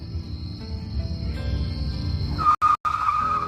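A car brakes to a stop, a loud rumbling roll that ends in a sharp tire squeal lasting about a second, broken by brief gaps near the end.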